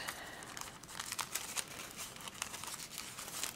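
Paper being folded and gathered by hand for a craft project, giving a steady, close crinkling and crumpling with small sharp crackles throughout, no voices.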